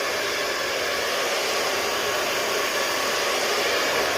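A hair dryer blows steadily on medium heat while hair is brushed, a constant close, loud whooshing rush with no break and no talking.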